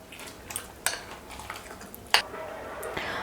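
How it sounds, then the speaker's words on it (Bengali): A spoon scrapes and clinks against a bowl while semolina pancake batter is mixed with warm water, giving a few sharp metallic taps over quiet, soft stirring. "আমি এর মধ্যে একটু একটু করে উষ্ণ গরম জল দেব আর একটা চামচের সাহায্যে এটাকে মেখে নেব।"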